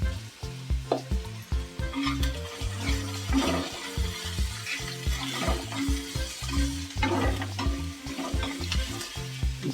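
Coriander powder is stirred and sautéed in a pan for a capsicum and potato bhaji, with a steady soft sizzle, scraping stirs and a low background hum. It runs continuously for about ten seconds with no talking.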